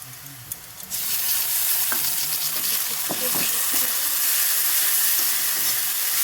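Onions fry loudly in a pan until brown for a mushroom curry, a dense hiss that jumps in after a quieter opening second, with a few spatula scrapes and clinks.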